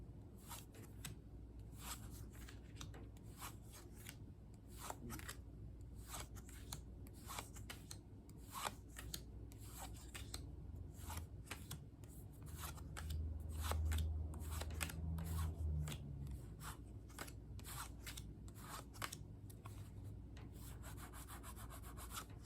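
Slippery tarot cards riffle and slide against each other in a long, continuous rustle, with repeated quick flicks and soft papery scraping, close and fairly quiet.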